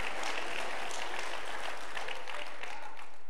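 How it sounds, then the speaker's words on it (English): A church congregation claps hands in a sustained, fairly faint wash of applause that runs steadily throughout, without individual claps standing out and with no voices over it. "Come on, clap real big."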